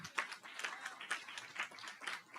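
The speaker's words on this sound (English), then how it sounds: "I want to get a special round of applause for Chantel," A small group claps at a hospital graduate medical education program coordinators' retreat awards presentation, a fairly faint, uneven patter with a few stronger hand claps standing out.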